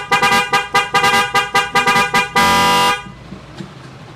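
A Denso Power Tone electric horn on a Yamaha XMAX 300 scooter honks in a rapid series of short beeps, then one longer sustained blast, loud and close, followed by quiet.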